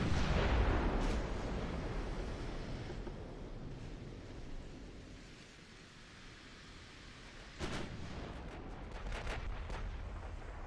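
Warship guns fire in the naval battle game Ultimate Admiral: Dreadnoughts: heavy booming salvos at the start fade into a rumbling wash like surf, then a second cluster of sharp blasts bursts out near the end.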